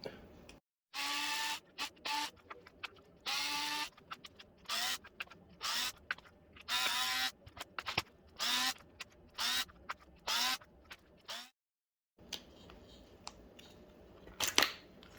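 Arrma Typhon RC car motor being unbolted, with a run of short, close ratcheting and clicking tool bursts separated by brief pauses, occasional small clatters, and no talking.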